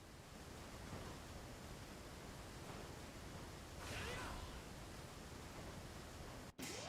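Steady broadband rush of a waterfall in the Devil May Cry 4 video game, a constant wash of noise filling the whole clip with a brief swell midway and a sharp click near the end.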